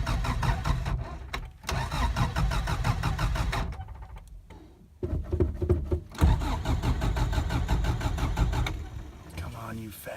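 A Subaru budget rally car engine cranks repeatedly with no fuel in the carburetor, the starter grinding in long bursts broken by pauses, with people talking nearby.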